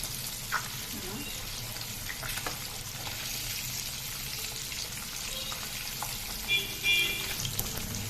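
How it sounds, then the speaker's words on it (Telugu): Sanduva fish fry in oil in a pan, a steady sizzle with soft scrapes and a few brief clinks as the pieces are turned, under a faint background murmur. "ఫిష్ వేగేస్తామండి, తిరిగేస్తున్నామండి"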